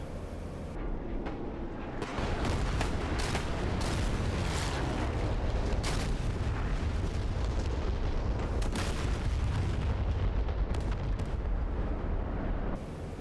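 Rocket strikes on ground forces in a 1944 France combat flight simulation, a long run of heavy rumbling explosions and booms rolling one after another, loud and continuous with sharp bursts throughout.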